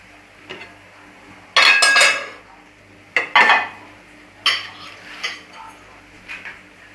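Utensils clink and scrape against a dish while one tin of sardines and one of mackerel are mixed together for a Jamaican breakfast. Several loud, close bursts of metallic scraping and clattering are separated by short pauses.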